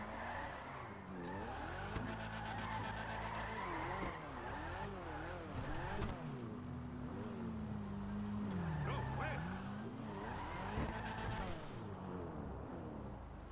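A Mazda RX-7 in GTA 5 Online slides with long tire squeals over a revving engine, then a rising and falling skid whine, steady and fairly loud while someone talks.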